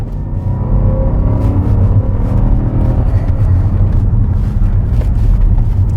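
A 2013 Land Rover with a 5.0L engine under wide-open-throttle acceleration, a loud steady low roar and rumble that holds strong throughout, heard up close with no talking.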